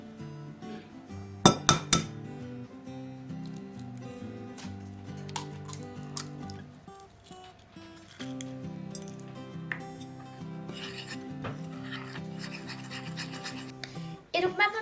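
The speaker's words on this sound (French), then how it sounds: "vous allez venir verser un à un les œufs en fouettant entre chaque ajout" Eggs whisked one at a time into cake batter in a bowl, with rhythmic scraping and clinking of the whisk against the bowl and a few sharper knocks as eggs go in, with faint music throughout.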